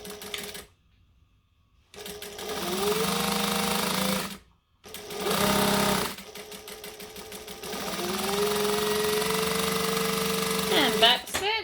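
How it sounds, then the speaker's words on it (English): A sewing machine stitches a jacket sleeve in three close bursts of rapid rhythmic whirring separated by brief pauses, with the last run the longest. "we're going to stitch the sleeve"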